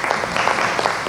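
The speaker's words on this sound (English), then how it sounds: "I will clap for Mr. Fateh" Applause for a guest at a pre-gathering for a halal food festival, a short burst of a crowd clapping, fairly close, with individual claps standing out from a steady dense patter.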